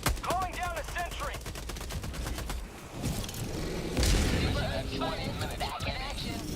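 Rapid gunfire in Helldivers with a sentry turret nearby, a mix of quick shot bursts and a heavy thump under steady chatter from several players.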